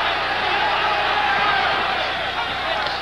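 Hometown boxing crowd at a live title fight, a steady dense roar of cheering and murmur filling the arena, fairly loud and continuous without sharp peaks, with a ringside commentator talking over it.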